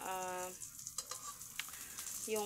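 Egg and eggplant fry in a pan with a steady, close sizzle and crackle. A brief whining tone sounds at the start and again at the end.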